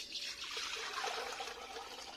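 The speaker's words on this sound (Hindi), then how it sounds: "पानी डाल देते हैं।" Water pours steadily into a pot on a clay village stove, a continuous soft splashing rush that stays even for about two seconds with no voices over it.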